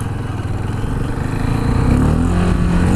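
Close and loud, a KTM 690 Duke motorcycle engine revs upward, its low drone climbing in pitch and growing louder partway through.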